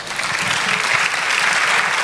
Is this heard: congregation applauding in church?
yes